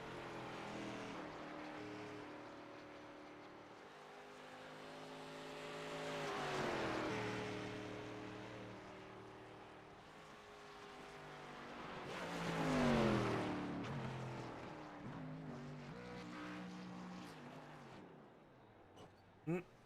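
A dirt late model race car, number 40, spins its tires hard on a victory lap in an Arc Pro Series race, engine roaring and swelling in loud revving waves, heard from a distance without any talk.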